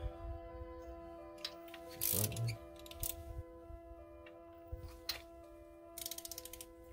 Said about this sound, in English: So I've got my extra long eBay special socket remover. 3 8 ratchet. And I'm going in.